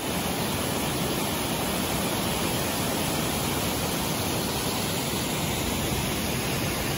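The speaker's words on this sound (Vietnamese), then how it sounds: "Thác Dải Yếm." Dai Yem waterfall in Moc Chau, Son La, pours as a steady, dense broadband roar that fills the whole stretch evenly, loud and continuous with no pauses and no voices.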